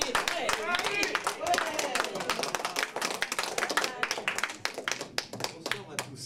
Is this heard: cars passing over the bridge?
no